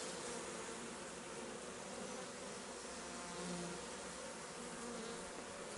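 Honeybees swarm busily at a hive during spring rapeseed bloom, a dense, steady buzzing hum that fills the whole stretch at close range with no voices.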